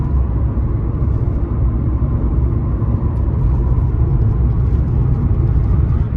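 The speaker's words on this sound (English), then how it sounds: "we're just going on a night drive in this 140" Mercedes W140 300SE on a night drive, heard from inside the cabin as a loud, steady low engine and road rumble that stays constant throughout, with no talking.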